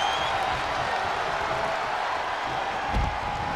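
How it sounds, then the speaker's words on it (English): Arena crowd from the WWE 2K22 wrestling video game during a tag team match, a dense continuous roar of cheering at steady volume, with a brief low thump near the end. "The sound of this crowd is deafening, and he's asking for more."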